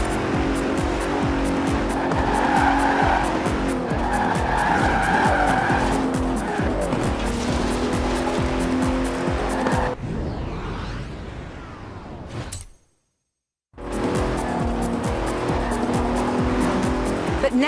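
Bentley Continental racing car in Forza Horizon 4, a loud engine roar running hard with repeated tire squeals and skids, then a brief quieter stretch, a moment of silence, and the engine surging back at full volume.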